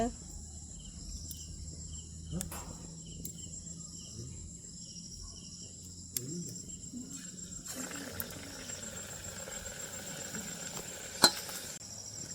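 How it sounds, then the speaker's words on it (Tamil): Batter-dipped sundiyal snack balls go into hot oil for bonda, and a sustained crackling sizzle starts partway through. Steady cricket chirping runs throughout in the background. "சுண்டியலை இந்த மாவில் தோய்ச்சி எண்ணெயில் போட போகிறேன்"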